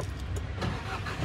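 A Force Urbania van engine runs close by, a steady mid-range mechanical rumble and whir with brief rising swells, heard alone without talking.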